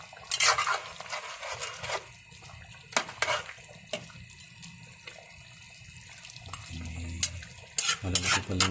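Chicken kinamatisan being stirred in a frying pan, with repeated scraping and clattering strokes over a soft background sizzle, close by, and a louder burst of stirring near the end.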